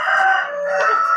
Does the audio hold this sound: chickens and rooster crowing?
yes